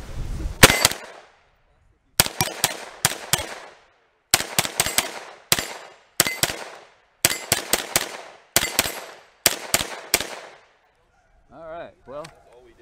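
Grand Power Stribog SP9A1 firing at an outdoor range: close, loud gunshots in quick bursts of two to four with brief gaps between groups, ending in a moment of quiet and a short voice.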